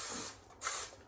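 Two short bursts of cooking spray hissing close by onto a muffin pan, the second one louder, with a brief pause between them.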